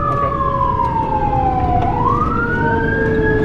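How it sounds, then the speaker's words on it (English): A Miami Dade Fire Rescue truck siren wailing loudly from close by, its tone gliding steadily down and then sweeping back up over a constant engine rumble. "And kill the sirens when we get here."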